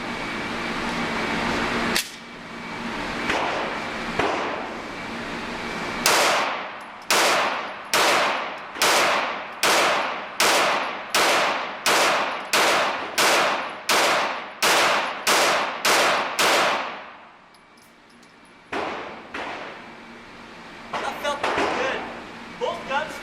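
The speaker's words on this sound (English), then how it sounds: "I'm going to press through and aim on each shot, no doubles or anything." An S&W M&P Pro Series pistol fires about a dozen sharp, loud shots in a steady, evenly spaced string, each aimed rather than doubled, with a few more isolated shots before and after the string.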